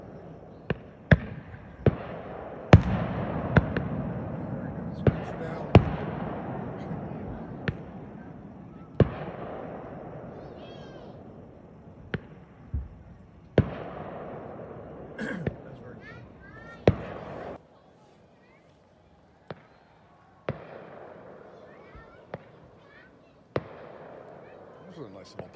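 Fireworks go off at the end of the day at an outdoor traditional archery gathering, a long irregular run of sharp bangs, several followed by crackling decay, continuing after a brief lull; people talk faintly between the blasts.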